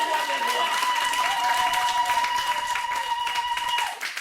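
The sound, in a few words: congregation clapping and acclaiming the Lord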